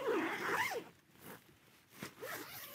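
A tent zipper is pulled along its track in a few quick strokes, giving a raspy, ratcheting sound that rises and falls, with short pauses between pulls, close and clear.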